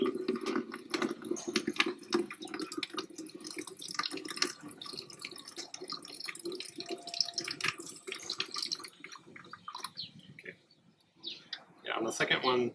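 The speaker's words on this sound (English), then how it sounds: "more of the water is coming out now" Water drains and splashes from the second plug of a tankless water heater being cleaned with an isolation valve kit. It flows fairly quietly and steadily with drips and clicks, and a voice talks over it.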